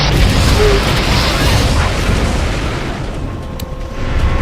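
Large mounted gun fired in Resident Evil 4, heavy booming blasts rolling into one another with a dense, loud rumble that tails off before another hit at the end, no voices.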